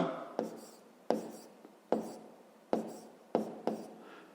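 A pen or pencil writes math by hand in distinct quick bursts. About six short scratchy strokes are heard close up, each starting with a tap and then fading, with brief pauses between them.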